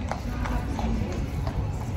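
Horse hooves clip-clop at a steady walking rhythm in a town square, a series of evenly spaced taps over a busy outdoor background.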